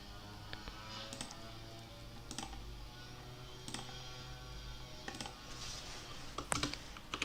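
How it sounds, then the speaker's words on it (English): Computer keyboard keys are pressed in a terminal session, giving scattered sharp clicks at irregular intervals over a low, steady background hum. "Instead of typing in cargo run, you would press the up arrow key."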